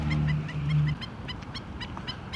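An excited bird calling at Kanaha Pond wildlife sanctuary on Maui, Hawaii: a loud, close honking cry followed by a quick series of short, repeated call notes, with no voices.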